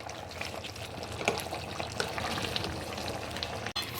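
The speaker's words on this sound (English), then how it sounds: "So I'm going to stir proper now." Efo riro, a Nigerian vegetable soup, is stirred in a pot, giving a steady wet bubbling and sloshing texture with a few louder scrapes, close and moderately loud with no talking.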